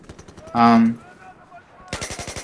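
Gunfire from the Battlefield 4 video game, rapid automatic bursts of sharp, evenly spaced shots at the start and again at the end, separated by a short loud in-game tone and quieter game ambience.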